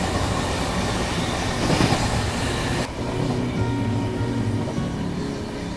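A train near Katpadi Junction rolls into a station platform with a loud continuous rumble and rattling wheel noise, easing slightly partway through.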